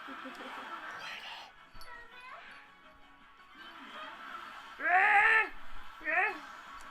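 Dogs play together with soft whimpers and whines, then two louder yelping cries near the end, with a voice and background noise underneath.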